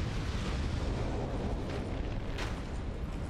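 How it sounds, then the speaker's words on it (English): Powder kegs blowing up in the video game Dark Souls II, a loud, dense, continuous roar of explosion and rumble with a brief sharper burst partway through, no talking. "His shoulder thingies exploded the powder kegs that were still in that corner."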